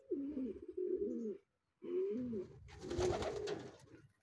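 Racing pigeons arriving at a derby lap in Pagbilao, Quezon give soft, close cooing calls in two short phrases, followed by a rustling, scuffling sound like wings or movement.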